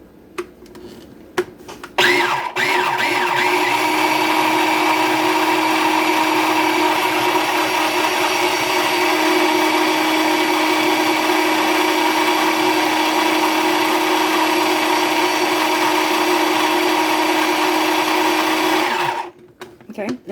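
A kitchen blender whirs steadily at high speed, blending berries for homemade keto ice cream, a loud continuous motor drone that starts abruptly and cuts off near the end.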